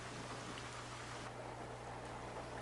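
Steady rain falls over the Blackwater National Wildlife Refuge wetlands, a faint, even broadband hiss with a low hum beneath, continuous and without pauses.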